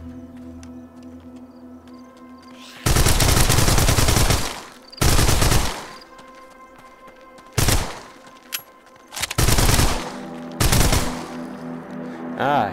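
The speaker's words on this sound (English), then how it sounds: "Okay, machine gun." Machine gun fire in the video game Arizona Sunshine, loud sustained automatic bursts in several separate volleys, one to two seconds each, with short quiet gaps between them.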